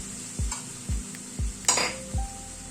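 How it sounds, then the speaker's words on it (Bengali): Spice masala with ginger juice and onion juice being stirred and fried in a pan for a light egg curry, with soft sizzling under four or five regular scraping stirs. "সব দিয়ে মশলাটাকে আবার একটুখানি কষিয়ে নিচ্ছি।"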